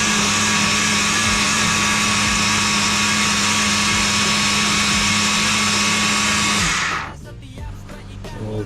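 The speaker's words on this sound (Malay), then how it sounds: "Okey, jom blender lagi." A blender grinds fishing bait made with chicken and banana for pond fishing, running loud and steady with a constant motor whine before abruptly shutting off near the end.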